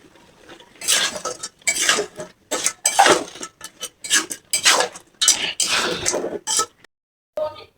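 Crab curry stirred hard in a cooking pot, with repeated loud scraping and clanking of a metal spoon against the pot in bursts, ending in a brief pause and one last scrape.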